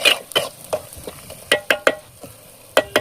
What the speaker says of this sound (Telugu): ముందు నూనె వేసుకుంటాం కదా, అది వేగుతూ ఉంటుంది.